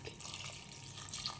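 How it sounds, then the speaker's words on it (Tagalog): Water pours into a cooking pan that already holds a little vinegar, a quiet, continuous splashing hiss lasting a second and a half with no one talking. "Lalagyan din natin siya ng tubig."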